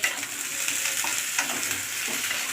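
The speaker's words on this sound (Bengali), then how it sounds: "এখন ভাজা হচ্ছে আলু।" Potatoes fry in hot oil in a pan, a steady close sizzle with a few soft stirring scrapes and light clinks, no voices.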